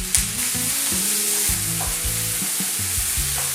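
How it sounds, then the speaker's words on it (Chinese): Minced beef and diced red onion stir-fried in a pan, with steady close sizzling and repeated scraping strokes of a spatula, no voices. "炒香后呢，炒肉末，"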